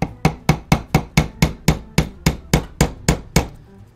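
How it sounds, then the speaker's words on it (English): A hammer taps steadily on a ZProps Fatebringer prop kit part in a workshop, about fourteen evenly spaced, light, sharp knocks close by, with no talking. "Tap it gently with a hammer."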